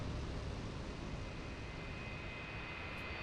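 Continuous broadband roar of an F-86F Sabre jet engine in the DCS World flight simulator, steady and loud throughout with a faint high whine, no voices.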